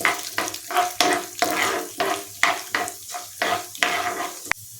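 Urad dal and chana dal fry in hot oil in a kadai, with rhythmic stirring scrapes and crackling sizzle repeating in steady bursts, close and fairly loud with no talking.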